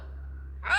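A sneeze bursts out loud and close at the end after a quiet stretch of steady low hum, sharp and breathy, amid a playful exchange about pigs causing sneezing.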